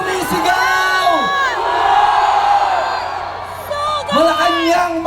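A crowd at a Filipino protest rally shouting together in rising and falling waves of massed voices, loud and close, with a voice leading the chant.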